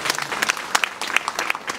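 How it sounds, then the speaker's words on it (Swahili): An audience claps in bursts of sharp, uneven hand claps that stay close and fairly loud throughout, following a call to honour a parent at a school event. "Tumpigie makofi mzazi wetu"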